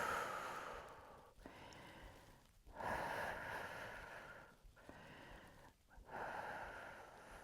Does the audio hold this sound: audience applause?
no